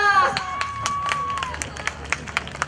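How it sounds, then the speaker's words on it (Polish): Crowd applause at a Polish Christmas comedy and cabaret show, scattered claps and sharp hand strikes ringing out under a fading sung tone and crowd noise, growing sparser and more irregular toward the end. "Prosimy o brawa!"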